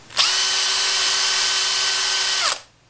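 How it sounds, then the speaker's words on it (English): A power drill spins a paint mixing stick in one steady, loud whir lasting a couple of seconds, starting and stopping abruptly, with no talking. "if you own a drill for about the same price, you can pick up one of these mixing sticks."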